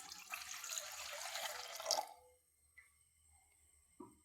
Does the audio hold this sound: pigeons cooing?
no